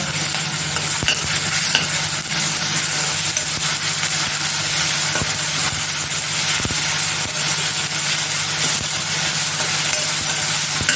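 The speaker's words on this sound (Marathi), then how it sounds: "आले लसूण पेस्ट आहे चांगली एक चमचा ती पण परतून घेते कांद्याबरोबर" Onion is sautéed with ginger garlic paste in a hot pan, producing a loud, constant sizzle and frying hiss with rhythmic scraping stir strokes, close up, and no talking.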